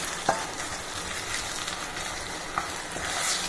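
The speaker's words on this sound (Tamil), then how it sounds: "மிளகு சீரகம் சோம்பு எல்லாம் அரைச்சோம் இல்லையா அதை அப்படியே போட்டு நல்லா வதக்கிக்கிறோம்" A steady, gentle sizzle of ground black pepper, cumin and fennel frying in oil, with a couple of faint spoon taps against the pan.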